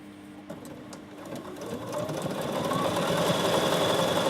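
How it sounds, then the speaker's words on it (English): A Bernina 7 Series sewing machine stitches steadily, its motor whirring and needle tapping in a fast even rhythm that builds to a sustained close drone. "let's see if I can sew straight"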